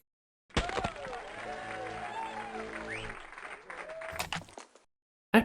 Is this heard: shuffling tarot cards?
no